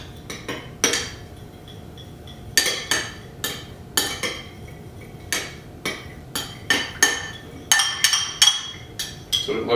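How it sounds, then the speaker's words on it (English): Spoon stirring homemade toothpaste ingredients, including aloe and stevia extract, in a bowl, with repeated sharp clinks of metal against the dish in an irregular rhythm, close and clear. "Then you're just gonna mix these ingredients together."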